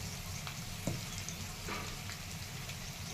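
Onion with curry leaves and turmeric fries in a pan, a soft, steady sizzle with a faint clink or two of a utensil stirring, quiet and close, with no voices.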